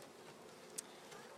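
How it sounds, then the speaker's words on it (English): Honey bees buzz just outside a hive in a steady, faint hum, with one brief sharp tick near the middle. "Do you want to get a close-up of the bees?"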